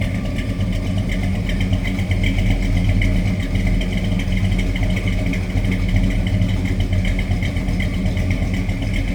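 A 1964 Ford Country Sedan wagon's engine idles low and steady, a continuous deep rumble that stays close and even throughout with no talking.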